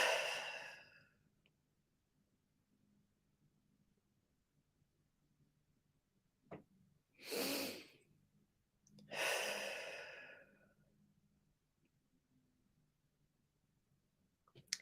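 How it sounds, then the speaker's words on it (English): Slow, calming breaths are taken with eyes closed while sitting upright in a quiet room: three soft, drawn-out exhales and inhales separated by long silent pauses. "I just close my eyes and I breathe"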